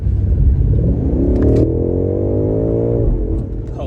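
The 2023 BMW M8 Competition engine revving hard, rising in pitch, holding, then falling back, loud and close, with a brief voice mixed in.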